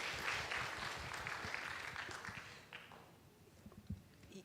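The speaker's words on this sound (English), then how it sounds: "Give it another applause for Miss Agnes" An audience at an orientation day for international students claps for a speaker, a soft, fairly distant patter that fades out over a few seconds.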